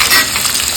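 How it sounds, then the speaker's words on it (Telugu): Sliced onions with green chillies frying hard in hot oil for a chicken curry, a loud, dense, continuous sizzle close up with faint stirring, no voices. "ఒక 3 ఆనియన్స్ పొడవుగా కట్ చేసుకొని స్లైసెస్గా కట్ చేసుకొని వేసుకొని బాగా ఫ్రై చేసుకోవాలి"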